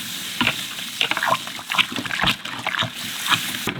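Brewing grains are stirred into mash water for a lemon shandy, giving irregular sloshing, splashing strokes at close range with brief pauses between them.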